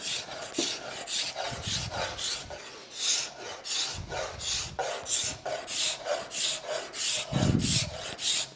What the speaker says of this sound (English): I would just come in and card scrape again